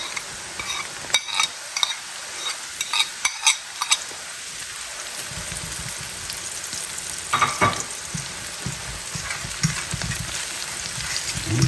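Garlic hits a hot pan along with julienned sun-dried tomatoes and orange bell pepper, starting with scattered clinks and scrapes and then sizzling steadily as it is stirred, close up with no talk.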